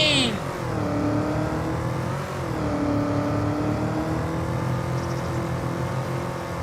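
A farm vehicle engine in Farming Simulator 25 revs in high gear, a whining, rising tone that dips and climbs again, sustained and fairly loud throughout.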